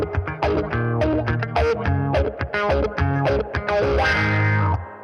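A distorted electric guitar runs through effects, with chorus among them, and strums the intro chords of a song: G5, D5, then C. The chords ring loud and steady, alone and without voices.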